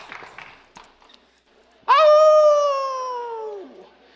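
A person imitating a lion's growl, producing a sudden loud drawn-out vocal roar that slides slightly downward and fades after about two seconds, preceded by faint rustling.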